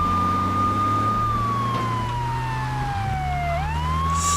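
In Grand Theft Auto III, a police siren wails with a slowly falling pitch over a rumbling engine, loud and close, with no talking.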